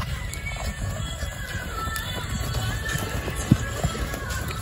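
Horse hooves pound in a steady, rhythmic clip-clop as a rider goes at a run, heard through constant outdoor noise with voices faintly in the background.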